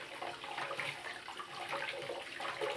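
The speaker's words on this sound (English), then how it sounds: "I got the water going nice and slow because I have such a small tub and it fills so fast." Water runs slowly from the tap into a small bathtub, a steady, soft hissing rush with no voices.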